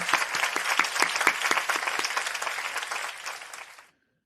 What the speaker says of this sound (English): Please join me in giving a round of applause to our newly inducted members of Omicron Delta Kappa.